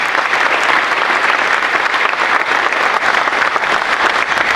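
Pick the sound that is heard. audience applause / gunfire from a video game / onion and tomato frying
audience applause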